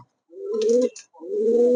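Two soft, low coos from a Mookee pigeon, close by, each drawn out with a brief pause between them.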